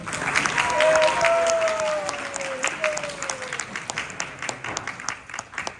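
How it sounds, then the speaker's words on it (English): Applause at a graduation celebration for ISV graduates, with scattered claps under a voice or sung tone, then thinning into sparse individual claps. "Let's give a big round of applause to all our graduates here"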